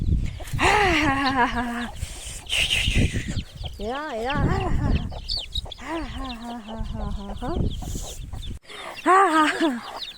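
Chickens cluck and squawk repeatedly at close range in lively, uneven bursts while being chased in a village, with people talking in between.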